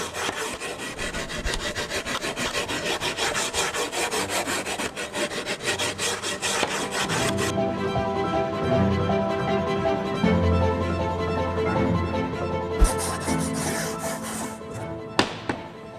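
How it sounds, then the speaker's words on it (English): A wood rasp files across wood while a butterfly is carved, with rapid, close, rhythmic scraping strokes, dense at first, then sparser with a few light taps and thumps near the end. "I'm going to take the rasp, because the rasp does a little bit a different job"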